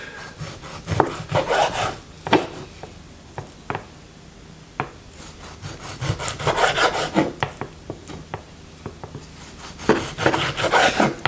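Coarse venison meat being chopped on a board for goulash, close knife strikes and scraping in irregular bursts, some rapid clusters of sharp taps between quieter pauses.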